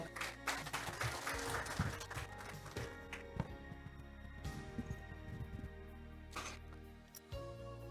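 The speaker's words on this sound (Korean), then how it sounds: "큰 박수로 맞아주시기 바랍니다" An audience at a semiconductor technology conference and launch event applauds to welcome a professor to the stage, with dense, fairly faint clapping spread through the room that thins out toward the end.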